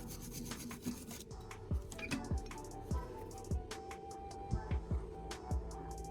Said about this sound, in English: I quickly clean the slag with a wire brush to reveal the strong, clean joint